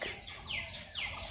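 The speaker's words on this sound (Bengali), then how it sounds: "পাখির ডাক শুনতে খুব ভালো লাগে সকাল সকাল" Birds chirp outdoors around five in the morning in short, faint sweeping calls, two quick descending whistles repeating in the quiet background.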